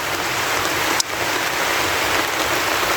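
Steady rain falls outdoors in the provinces, a dense even hiss of drops on surfaces with no voices, one brief sharp tap standing out near the start.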